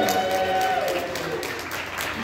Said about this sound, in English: Let's cheer them on.